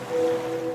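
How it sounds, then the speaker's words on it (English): Ocean waves sound effect from a laundry detergent commercial, heard as a soft, steady wash of surf with a faint sustained tone beneath it, with no talking. "now you're drifting asleep to the scent and sound of waves"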